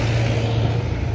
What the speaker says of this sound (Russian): Тут он трактор. Дыр-дыр-дыр.